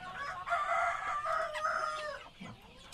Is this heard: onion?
no